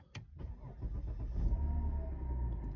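A car engine cranks with a sharp click and short starter whirr, then catches and settles into a steady close idle after an error-code check; no talking.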